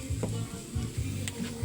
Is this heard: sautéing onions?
yes